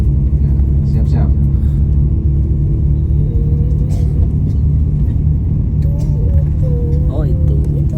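A tour bus rolls along a road toward a tunnel near Masjid Muzdalifah, its engine rumbling low and constant while passengers talk inside.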